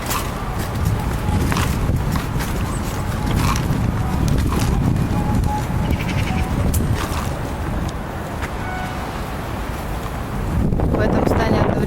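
Strong winter wind gusts along a street in Anapa near a school, a constant loud rumbling roar buffeting the microphone throughout, swelling again near the end.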